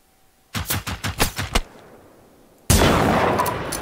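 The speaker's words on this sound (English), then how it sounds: "Who's shooting?" Gunfire in the video game Generation Zero: a rapid burst of about six loud close shots, a fading tail, then a single heavy blast with a long decaying rumble.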